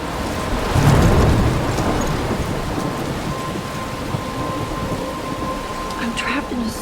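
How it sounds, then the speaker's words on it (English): A rainy thunderstorm in the video game Life Is Strange, with a loud thunder rumble early on that fades into steady, hissing rain and scattered drops, continuing alone. "I'm trapped in a storm?"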